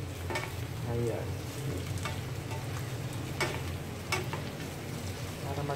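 Tofu fries for sisig in a pan with a steady close sizzle, stirred now and then with a few sharp scrapes and clicks.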